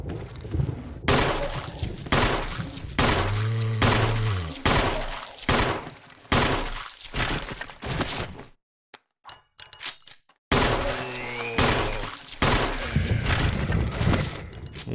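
Gunshots fired at a zombie in Resident Evil HD Remaster, coming as a run of loud, sharp, evenly spaced blasts with metallic ringing. A brief silent gap falls in the middle before the firing starts again, with no talking.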